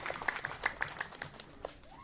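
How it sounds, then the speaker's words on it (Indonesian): A crowd at a PDI Perjuangan political outreach gathering in Bandung gives a short round of applause, a few sharp claps standing out over a thin background of hand claps and murmuring. "tepuk tangan."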